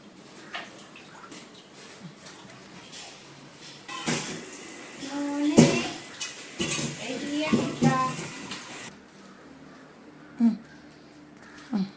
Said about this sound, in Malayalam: പാത്രം കഴുകാൻ ഇതുപോലെ കൊടുത്താൽ